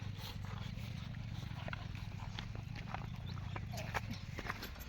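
A buffalo feeds on fodder, giving off a close, irregular series of soft crunching and chewing clicks over a low steady hum.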